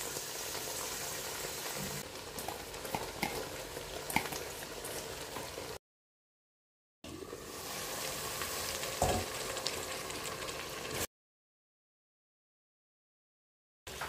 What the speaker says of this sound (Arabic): باش نخلوها تتقلى حتى هي معاك السبناخ